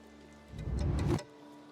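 Rain effect in the card game Gwent: a short burst of pattering, hissing rainfall that swells in and cuts off after under a second, sitting alone over a quiet background hum.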